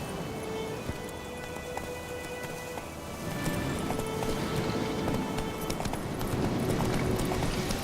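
Roach the horse galloping in The Witcher 3, rapid, rhythmic hoofbeats that grow louder and busier halfway through, set against soft ambient game music.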